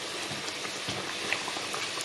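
Bánh tiêu dough puffs in hot oil, a steady close crackle and sizzle with scattered pops and no talk.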